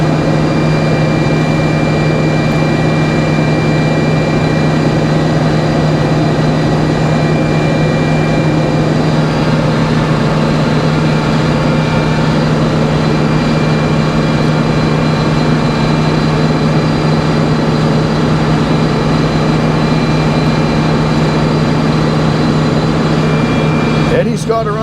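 Sawmill blade running through big cherry logs at a slow cutting pace, a loud continuous engine-like drone with a steady hum that carries on throughout without letting up.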